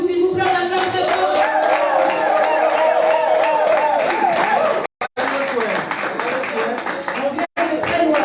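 Church congregation cheering and clapping loudly at a Sunday service, an excited crowd roar with scattered applause and wavering voices throughout, broken by brief dropouts near the end.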